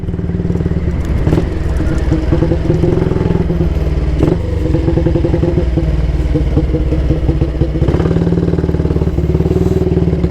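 A 1938 AJS Model 22 250cc motorcycle runs loud and steady while being ridden, its single-cylinder engine thrumming continuously, with a couple of sharp knocks as it jumps out of gear.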